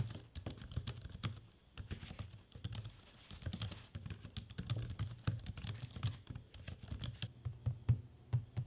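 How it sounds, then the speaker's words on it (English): Steady, fast typing on a Gigabyte Aero 17 HDR XB laptop keyboard, soft close clicks and taps in an uneven rhythm, with no voices. "listen to me typing on the keyboard and using the trackpad."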